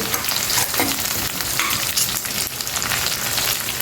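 Carrot and potato pieces fry in hot oil in a pan for godhuma ravva upma, giving a loud, steady sizzle with scraping stirs running throughout.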